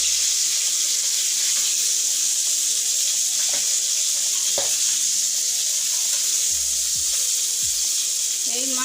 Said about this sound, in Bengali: এই মাছ ভাজতে গেলে এগুলো ছুটে ছুটি করে, একটু সাবধানে করে নেবেন।